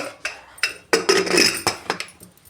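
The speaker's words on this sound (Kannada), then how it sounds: "ಇದನ್ನು ಕುಕ್ಕರ್ ಮುಚ್ಚಿ" A pressure cooker lid is shut over boiling water with turmeric and green gram, giving a string of sharp metallic clanks and clinks close up, uneven in rhythm, with no talking.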